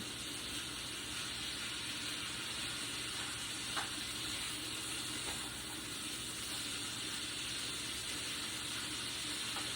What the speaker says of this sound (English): keep stirring it every minute or two, because you don't want your cabbage to be wilty